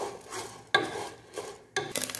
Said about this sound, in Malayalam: നമ്മളെ അരി പെരുന്നാൾക്ക് പടക്കം പൊട്ടണ വഴി ചട പടാന്നിങ്ങനെ പൊട്ടിക്കൊണ്ടിരിക്കുകയാണ്, സൗണ്ട് കേൾക്കുന്നുണ്ടാവും